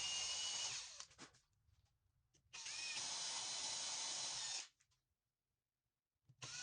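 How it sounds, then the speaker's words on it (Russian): A power drill with a wood bit bores holes, two long whining bursts separated by pauses plus shorter starts, close and loud with a faint ratcheting edge. "Ну а далее сверлом по дереву делаю 4 углубления."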